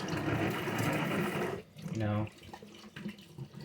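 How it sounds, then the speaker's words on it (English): Tap water runs loudly into a sink as an emptied can is rinsed, a steady rushing splash for about a second and a half, then brief gurgles and clinks as the flow stops and a person talks. "Let's go ahead and rinse it out."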